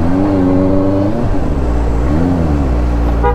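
A Benelli TNT 600i 2021 motorcycle on its stock exhaust pulls away hard, the engine note climbing through the revs and then settling into a steady, loud drone close by, with no voices over it.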